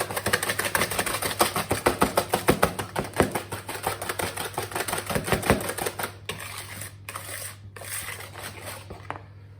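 Banana oat cookie mixture is stirred by hand in a bowl, giving a fast run of loud, rhythmic tapping and scraping strokes that thin out into scattered knocks near the end.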